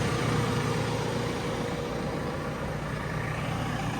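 A JCB construction machine's 97 kW engine runs in a steady, loud, continuous drone with an even low rumble throughout and no voices.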